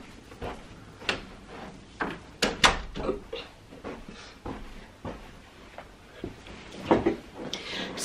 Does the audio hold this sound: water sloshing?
no